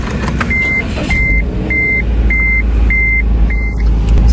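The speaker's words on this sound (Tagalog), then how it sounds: "Initin mo na ang makina." A car engine runs as it warms up, a steady low rumble under six evenly spaced electronic beeps.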